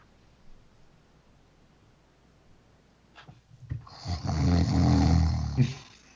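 During a tabletop D&D game, a voice imitates a character named Grim snoring: one long, loud, rasping snore that rises after a few quieter breathy noises.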